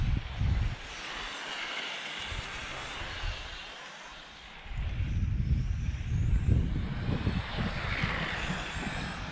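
An electric RC touring car, such as a Serpent Viper 989E or TA TC7.1, runs at full throttle on an asphalt track, a rising and falling motor whine with tire and road rumble, passing near and fading.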